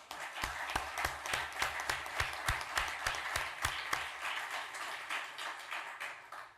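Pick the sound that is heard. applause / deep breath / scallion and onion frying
applause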